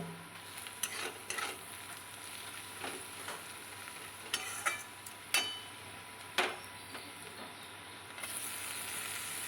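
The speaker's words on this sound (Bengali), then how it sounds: "পেঁয়াজগুলো বেশ লাল লাল করে আমি এখানে ভেজে নেব।" Onions fry in a pan with salt and turmeric, a soft steady sizzle under intermittent scraping stirs from a spoon, close and fairly quiet.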